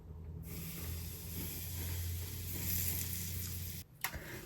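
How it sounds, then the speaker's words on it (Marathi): Hot oil (mohan) poured into chakli flour mixed with salt and white sesame seeds gives a steady, close sizzling hiss that holds for about four seconds, then cuts off abruptly. "हे गरम तेल मोहन ॲड करते"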